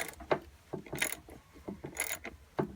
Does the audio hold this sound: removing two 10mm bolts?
yes